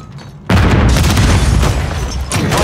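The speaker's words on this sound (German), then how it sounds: "Werfe eine Granate!" A grenade blast in a Paris multiplayer match of a military shooter game erupts as a sudden loud boom, then a sustained roaring wash of explosion and battle noise.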